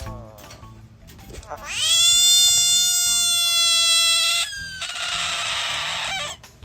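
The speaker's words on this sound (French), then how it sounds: "c'est une grenouille qui crie comme un chat" A loud, drawn-out, cat-like wailing scream from a frog, with a strong tonal cry, followed by a harsher raspy shriek, close and piercing.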